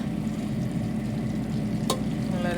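Tomato sauce simmering and cooking down in a pan, a soft continuous sizzle and bubbling, fairly quiet and close, with one brief sharp clatter near the end.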